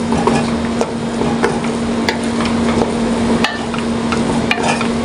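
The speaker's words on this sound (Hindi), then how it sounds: "ये बादाम है, ये भी डालेंगे और मिक्स करेंगे" Almonds are stirred into semolina halwa in a pan: repeated clacks and scrapes of a spoon against the pan over a constant low hum and faint frying.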